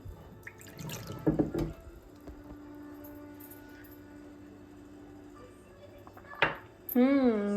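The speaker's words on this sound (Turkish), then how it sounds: "Üzerine de bir litre su." About a liter of water is poured for a cold homemade lemon drink, a soft steady liquid stream running after a few louder splashy clatters, ending with brief sharper bursts near the end.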